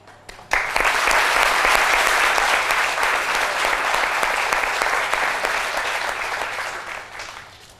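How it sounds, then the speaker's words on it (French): A sudden burst of audience applause, dense and sustained clapping that slowly fades over several seconds. "Mesdames et messieurs, merci de le recevoir avec vos applaudissements."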